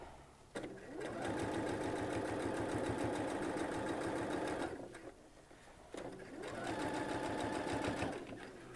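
A sewing machine stitches a notebook cover in two long steady bursts of rapid needle chatter, each motor run starting and stopping abruptly with a short pause between, close and loud.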